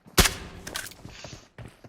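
A single loud shotgun blast in the PUBG Mobile video game, a sharp close crack near the start followed by quieter game sounds and a brief later thump.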